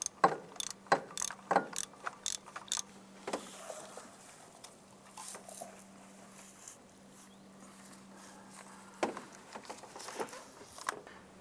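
A ratchet clicking as it turns a spark plug socket on a swivel and short extension in an Acura TL engine bay, bursts of quick metallic clicks, busiest at the start, with scattered tool clinks and a faint hum.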